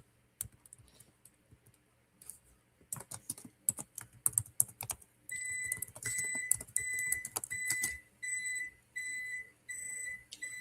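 Fingers tap quickly on a computer keyboard in bursts of close clicks, and then an electric height-adjustable desk beeps in repeated high tones alongside more typing.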